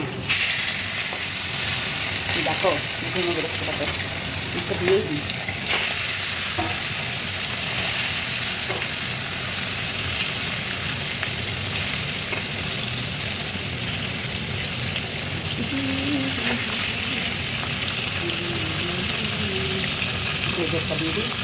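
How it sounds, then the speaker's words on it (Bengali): Fish sizzles and spits in hot, smoking oil in a wok (kadai), a steady loud broadband frying hiss throughout, with someone talking intermittently over it. "এবার মাছটা ছেড়ে দেবো দেখো"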